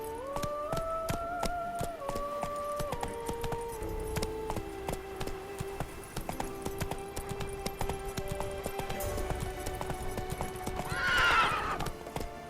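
Hoofbeats of a horse galloping in The Witcher 3: Blood and Wine, a steady clip-clop run under a game music score, with a loud whinny near the end.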